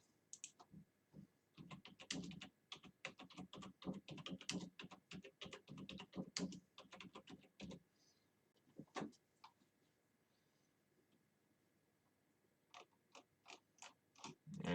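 Quick, light clicks of a computer keyboard come in dense bursts of typing, then a few isolated key taps after a pause; close and fairly quiet in an otherwise still room.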